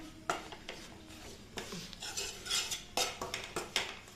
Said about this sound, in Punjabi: ਦੋਨੇ ਹੀ ਚੀਜ਼ਾਂ ਨੂੰ ਚੰਗੀ ਤਰ੍ਹਾਂ ਮਿਕਸ ਕਰਕੇ ਭੁੰਨ ਲੈਣਾ ਹੈ